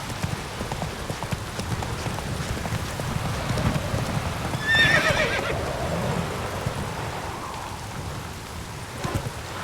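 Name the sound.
horse Roach galloping in the video game The Witcher 3: Wild Hunt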